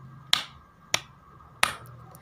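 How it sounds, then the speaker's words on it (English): Three sharp, crisp hand claps spaced about half a second apart in a quiet room, close and distinct, as a demonstration of clapping. "you must clap your hands twice, for example like this"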